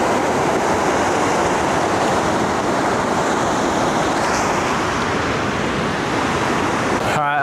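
Steady roar of surf and breaking waves fills the clip, loud and continuous, with wind buffeting the microphone.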